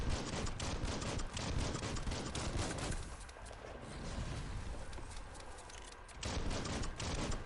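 Gunfire in the video game Biomutant: dense, rapid bursts of shots dominate the opening seconds, drop back to a rumbling lull, then return loud and crowded near the end, with no talk over them.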